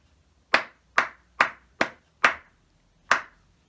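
Hands clap in a primary classroom rhythm game, six sharp, isolated claps close to the microphone in an uneven pattern, with near silence between them and no talking.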